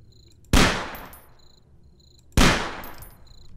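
Two loud gunshots in the Half-Life 2 mod 1187, each a sharp close crack with a decaying echo, spaced about two seconds apart against a quiet background.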